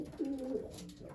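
An ace racing pigeon gives a soft, low, rolling coo up close, one continuous call with a slight second swell, in a quiet indoor setting.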